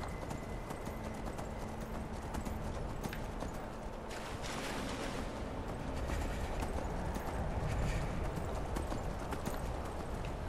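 Horse hooves clip-clopping in the video game Skyrim, a steady rhythmic trot continuing over ambient game sound for about ten seconds, with no talking.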